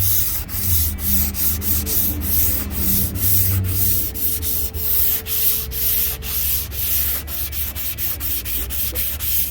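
Steady rhythmic rubbing of sandpaper on a block across a 1978 Chevy Malibu drag car's body panel, close and loud, with repeated back-and-forth strokes and no talking.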